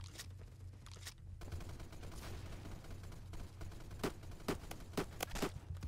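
Spas 12 shotgun fire in the Roblox game Phantom Forces comes as a few sharp, fairly faint blasts in quick succession toward the end, over a low game background hum.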